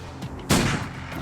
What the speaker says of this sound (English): Try a headshot with Kate.